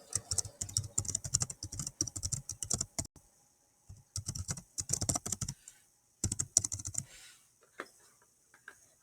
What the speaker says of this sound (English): And then you can type in what you want it to say.